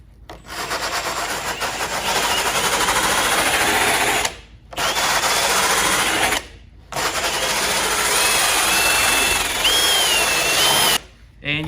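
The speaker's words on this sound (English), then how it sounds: "then you're gonna take your drill attachment" A power drill with an attachment strips old foam from a car headliner, whirring continuously with abrasive scrubbing, pausing briefly a few times before starting up again; close and loud.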